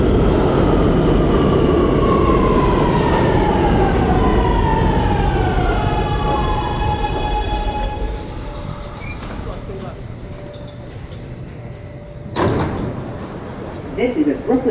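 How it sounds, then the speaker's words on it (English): A Brooklyn-bound A Express train on the New York subway roars loudly, its motors whining in falling then steady tones, before the rumble eases and a sharp door or brake clatter follows near the end, with announcements over the noise. "This is a Brooklyn-bound A Express train."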